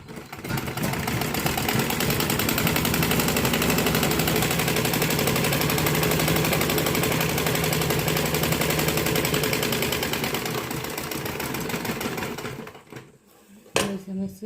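A sewing machine stitches a double seam on a dhoti salwar in a steady, rapid, loud mechanical run for about eleven seconds, then stops, followed by brief handling noises.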